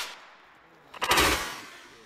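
Rifles firing blank ammunition in a military training demo: a short burst of sharp reports after a quiet lead-in, moderately distant.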